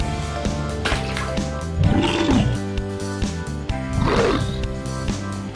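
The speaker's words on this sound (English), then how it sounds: "Bear." A bear gives two deep, drawn-out roaring growls spaced a couple of seconds apart, loud and close, over a steady background of layered tones.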